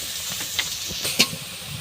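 Onions and green chillies frying in a pan for curry give a steady, fairly quiet sizzling hiss, with a couple of brief louder spits and crackles.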